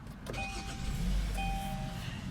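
A 2017 Kia Sportage's 2.4-liter four-cylinder engine cranks and catches via push-button start, then settles into a steady low idle rumble with a faint high electrical whine, close by.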